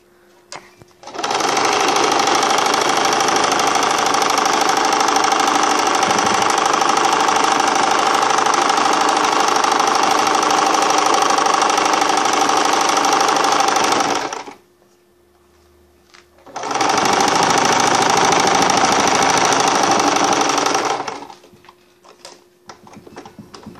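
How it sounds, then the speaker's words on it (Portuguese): A sewing machine runs a straight seam on a jumpsuit, a loud, fast, continuous mechanical rattle that goes for about thirteen seconds, stops briefly, then resumes for a shorter second stretch. "é só passar uma costura reta, que vai daqui da manguinha até aqui no pé"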